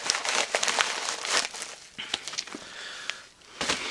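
Large paper envelopes crinkle and crumple up close as they are handled and torn open, in irregular bursts with short pauses between them.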